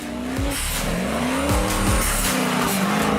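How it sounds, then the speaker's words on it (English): A loud turbocharged LS engine in an off-road racing truck roars and revs continuously, with rising and falling pitch sweeps and a whining turbo note, plus some tire noise. "You can always hear that turbo."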